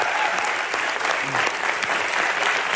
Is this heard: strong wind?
no